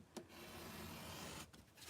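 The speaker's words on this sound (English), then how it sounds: "I just take my knife and just run it along the edge" A knife blade run along the edge of a wooden wildflower sign to scrape off excess, giving a steady close rasping scrape lasting over a second, with a brief sharp scratch just before it.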